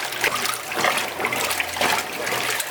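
Black denim jeans go into a basin of bleaching water to change their color. Close splashing, trickling and sloshing continue steadily throughout, with no talking.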